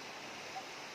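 Steady, faint rushing of a river in the Sierra Madre, a continuous broadband wash of flowing water with no clear breaks.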